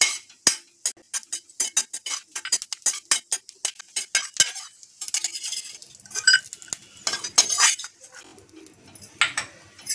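A spoon stirs almond pieces roasting in ghee in a pan, making light scraping and clinking strokes close by, then sparser clinks with soft background sounds and no talking.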